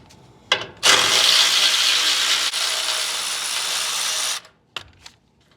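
A ratchet loosens the 10mm bolt holding a bracket to the frame of a 2015-or-later Ford F-150 during a leveling kit install: a few clicks, then a long, loud, fast ratcheting run, then a couple of closing clicks.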